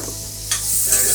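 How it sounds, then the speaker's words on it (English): Onions and garlic hit hot olive oil in a pan and sizzle loudly and steadily up close, the hiss swelling as they are stirred, with no talking. "Listen for the sizzle."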